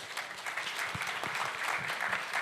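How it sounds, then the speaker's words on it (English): A conference audience applauds panelists at a Ho Chi Minh City travel industry event, dense steady clapping filling the room at even loudness throughout without a break. "Could we have a round of applause for our panelists"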